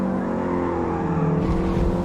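A race car in Forza Motorsport slides through a corner with a sustained, loud engine roar and tire noise that swells slightly toward the end, with no talking.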